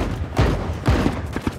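A flechette gun fires in The Cycle Frontier during a PvP fight: two heavy, close shots about half a second apart, then a few quicker, lighter cracks near the end.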